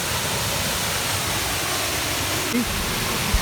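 A stream rushes through a valley at night during a crab-hunting outing, making a steady, full broadband roar that stays unchanged throughout, with only a brief faint sound breaking through near the end.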